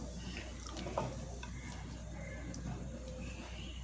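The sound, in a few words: ground spice paste frying in masala pan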